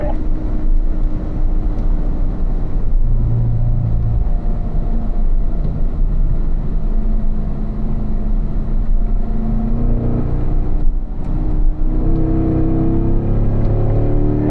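A race car engine roars steadily through a track turn as the driver squeezes the throttle, a loud, continuous drone with shifting pitch and no pauses.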